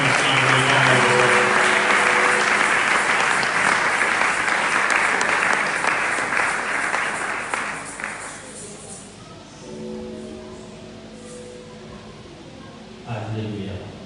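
A church congregation breaks into loud, sustained applause that gradually fades, then picks up briefly again near the end, with a voice speaking over it.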